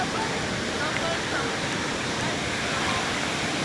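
A waterfall in Pahang roars as steady, broadband rushing water, constant and loud throughout with no breaks.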